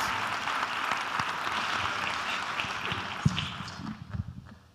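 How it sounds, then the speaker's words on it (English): Applause from a conference audience at a data festival and space expo, moderate and steady clapping that thins out and fades toward the end. "Round of applause for her, please."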